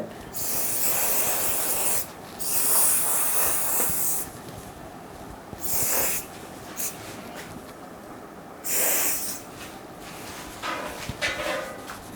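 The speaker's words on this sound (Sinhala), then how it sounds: "ඊළඟට අපි මේක ස්ප්‍රේ කරගන්නවා" Hairspray from an aerosol can is sprayed onto a bride's Kandyan-style hairdo in several separate hissing bursts of a second or two each, close and fairly loud, with quiet gaps between them.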